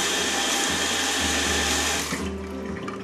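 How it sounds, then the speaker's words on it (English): A spoon rinsed under a running kitchen tap while cooking, a steady close rush of water that cuts off near the end, leaving a quieter tail. "I'm just going to rinse off my spoon here."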